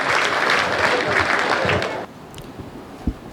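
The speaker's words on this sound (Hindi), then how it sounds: "आदरणीय महेंद्र दादा को आमंत्रित करता हूं, उनके लिए आप जोरदार तालियां बजाएं" An audience at a Hindi poetry gathering applauds with steady clapping for about two seconds, then it stops abruptly, leaving quiet room noise and a soft thump.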